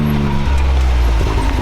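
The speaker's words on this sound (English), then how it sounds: "Here they are pulling up right here." Engines rumble close by as off-road vehicles pull up on a trail, a deep idling growl with a brief shift in pitch.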